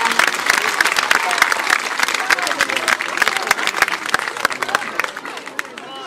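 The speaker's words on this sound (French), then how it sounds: "Sous vos applaudissements, s'il vous plaît, Madame Recroux Marie-Christiane." An audience claps at an outdoor medal ceremony for Bastille Day, the applause dense and lively with sharp individual claps standing out, scattered cheers and voices mixed in, slowly thinning toward the end.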